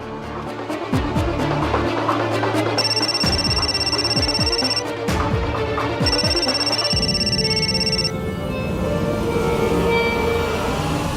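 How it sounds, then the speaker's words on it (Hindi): A telephone rings unanswered in a Hindi TV drama scene, two steady electronic ringing bursts sounding over a busy background of music and ambient noise. "इश्की तो फ़ोन नहीं उठा रही है।"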